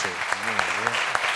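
Audience applause at the close of a renewable hydrogen conference round-table session, a steady wash of clapping with a voice speaking over it for the short stretch.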